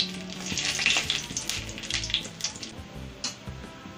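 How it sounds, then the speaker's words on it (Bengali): Two dried red chillies and two bay leaves hit hot oil for a Bengali moong dal with pumpkin, giving a close, crackling sizzle with sharp pops that settles and quiets toward the end. "এইবার দিয়ে দেব আমি 2টো শুকনো লঙ্কা, দেবো আমি 2টো তেজপাতা"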